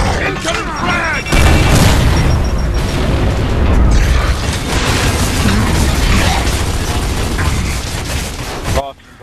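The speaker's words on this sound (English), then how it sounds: "Incoming frag!" A frag grenade explodes in a Gears of War 3 King of the Hill match on the Rustlung map: a loud, sharp blast lands after a second and rolls into a long, dense rumble amid game noise.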